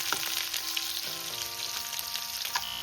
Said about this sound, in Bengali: এবার আমি পেঁয়াজটাকে ভালো করে লাল লাল করে ভেজে নেবো